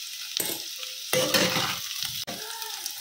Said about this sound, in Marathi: इथे मी तूप टाकलं, तुपात जिरं टाकलं आणि नंतर कट केलेला बटाटा टाकला.